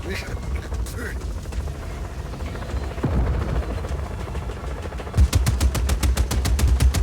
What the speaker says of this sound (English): See, I hear a helicopter.